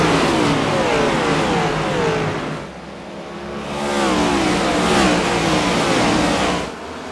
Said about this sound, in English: These engines are absolutely roaring